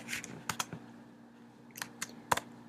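A few quick clusters of keystrokes on a computer keyboard tap out close and quiet, with short pauses between bursts and no talking.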